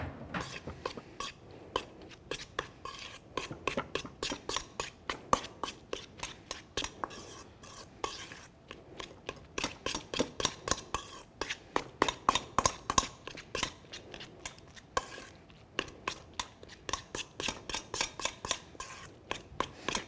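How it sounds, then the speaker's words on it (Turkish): A spoon stirring and mashing food seasoned with red pepper flakes in a bowl, with steady repeated scraping and tapping strokes in an uneven rhythm, close and fairly quiet, continuing throughout. "Şimdi bir kaşık yardımıyla şöyle güzelce bir karıştıralım."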